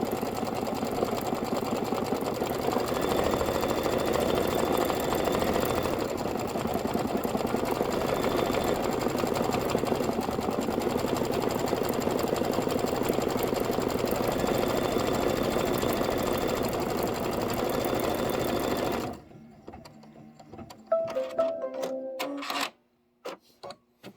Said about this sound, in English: So we're going to stitch this, and then we're going to stitch the rear post detail